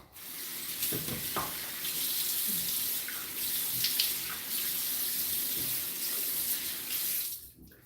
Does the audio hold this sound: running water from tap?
yes